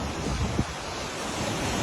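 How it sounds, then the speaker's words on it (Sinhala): Strong floodwater rushing past a collapsed bridge on a road after heavy rain makes a steady, fairly distant roar mixed with wind noise on the microphone. "මේ හොඳම වතුර පාරක් මේ යන්නේ මෙතනින් එහාට"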